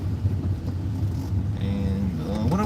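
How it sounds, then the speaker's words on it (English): A car rolls slowly while pulling over to park, its engine a low steady rumble close by, with a brief rise near the end. "We're gonna pull on over here."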